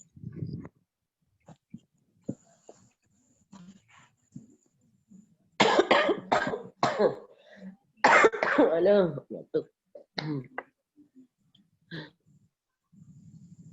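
A series of harsh, close coughs comes in two clusters, with quieter breathy sounds and throat noises around them in an otherwise quiet room.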